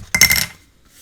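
A single crisp snip as scissors trim the corner of a paper pocket for a winter-themed mini album, a short bright cut lasting about half a second, close and clear with no talking.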